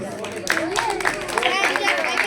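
Loud, dense clapping from a room of coaching-centre students, a steady burst of many hands sustained throughout with a few voices mixed in.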